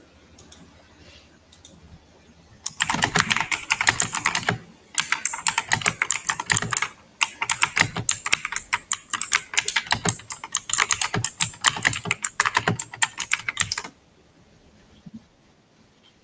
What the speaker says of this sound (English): Your typing is You know, really loud.